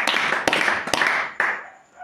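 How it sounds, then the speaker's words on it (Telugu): A few hands clap at a family prayer gathering, giving sharp close slaps at a loose, uneven rhythm over a short stretch before fading out. "చప్పట్లు కొట్టండి."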